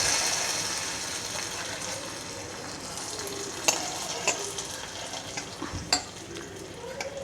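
Hot oil tempering with curry leaves sizzles as it is poured into broad bean kootu, a steady frying hiss followed by a few sharp clinks of a utensil against the pan.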